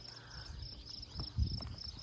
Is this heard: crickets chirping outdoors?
yes